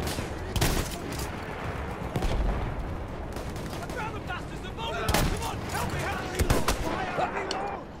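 Dense turret gunfire in the Battlefield 1 video game: a continuous, loud barrage of rapid shots with heavier booming impacts swelling at intervals across the whole stretch.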